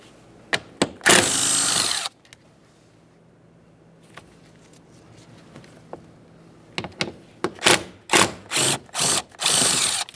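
A ratchet takes out the 10mm mounting bolts of a towing mirror on a 2015-2020 Ford F-150, giving close clicking pawl runs and sharp clicks in bursts separated by quiet gaps.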